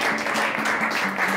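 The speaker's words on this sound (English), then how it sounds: "big round of applause" A big round of applause from an audience at a creative entrepreneurship talk, dense steady clapping filling the whole moment, loud and continuous, with a tonal hum running underneath.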